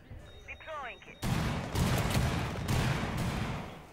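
MP5 submachine gun fire in Rainbow Six Siege starts abruptly as loud, close, sustained automatic bursts. A voice briefly precedes it.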